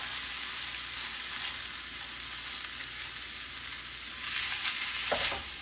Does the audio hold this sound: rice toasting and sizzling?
yes